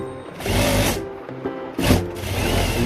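A sewing machine stitches the lining for a book bag, its motor whirring in two close, loud bursts with a pause between, no voices over it.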